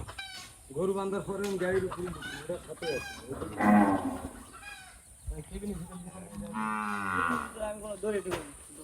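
Cattle, including Gir heifers, being loaded for transport from Naogaon to Mymensingh and Dhaka, with several drawn-out moos at moderate distance among people talking, while chickens cluck faintly in the background.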